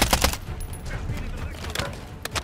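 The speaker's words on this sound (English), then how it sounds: "it's that house they're shooting." Clusters of gunshots ring out in a shooter video game, firing toward a house, a few sharp cracks at the start and end with a busy background between.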